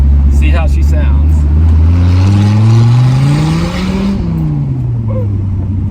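A 1995 Dodge Viper R/T 10 roadster revs loud and close, its deep engine note climbing steadily through a long acceleration before dropping off, with a voice heard briefly.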